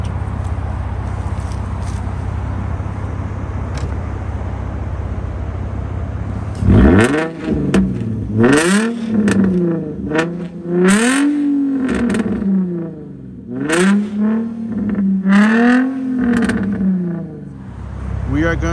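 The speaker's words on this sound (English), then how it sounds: "Wondering what a muffler and a resonator delete sounds like?" A Nissan G35 coupe with a muffler and resonator delete exhaust idles low, then revs hard several times in rising and falling bursts, loud and close.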